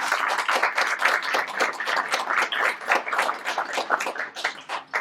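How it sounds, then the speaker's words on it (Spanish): An audience at a book presentation on human duties applauds a speaker, many hands clapping in a lively, uneven crowd ovation that carries on throughout and eases slightly at the end. "Le damos un fuerte aplauso al doctor Eduardo Lima Gómez"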